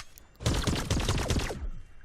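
Rapid burst of weapon fire from the VR MOBA game Starvault VR, a dense volley of sharp shots lasting about a second and a half, loud and close with no talk over it.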